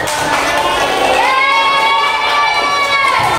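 Primary school classroom of third-grade children erupting together, loud cheering and shouting voices mixed with clapping, near and continuous throughout.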